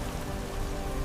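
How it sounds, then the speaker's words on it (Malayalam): Heavy rain pours down in a steady, dense hiss, loud and unbroken throughout with no voices. "എന്തൊരു മഴയായത്! ഇതിനൊരു അറുതിയില്ലേ?"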